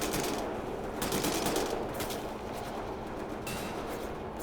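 Rapid machine-gun bursts ring out in the WWII shooter Wolfenstein: The New Order, recurring in several salvos over a dense, steady din of gunfire with no talk.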